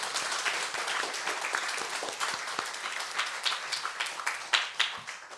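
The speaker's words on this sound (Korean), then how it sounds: "하나님 앞에 박수로 영광을" Christmas thanksgiving service congregation at a Korean church applauding, a sustained crowd of clapping with distinct sharper claps standing out toward the end, moderately loud and continuous.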